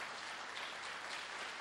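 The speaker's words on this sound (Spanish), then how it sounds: "Dale un aplauso fuerte al Señor." Steady applause from a church congregation, clapping for the Lord during a Spanish-language sermon, a dense continuous wash of hands held at an even level for the whole stretch with no voices rising above it.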